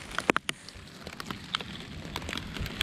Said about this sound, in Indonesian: Nih lihat suasana hujannya kayak gini tuh.